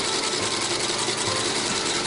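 A boot-making machine stitches the inseam joining upper and midsole of a Meindl hunting boot, a loud steady mechanical whir with fast rhythmic ticking, continuous and close.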